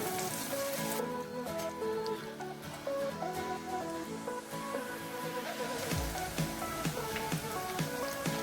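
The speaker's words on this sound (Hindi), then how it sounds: "हल्की फ्लेम के ऊपर इन सारी चीज़ों को अच्छे तरीके से फ्राई कर लें" Spices and green chillies sizzle steadily in oil over a low flame for a potato and fenugreek curry, a soft continuous crackle with no talk.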